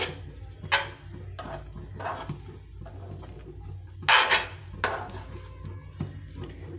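A spoon stirs kanika rice coated in ghee in a metal pan, with repeated scraping and clattering strokes at an irregular rhythm, close up and moderately loud.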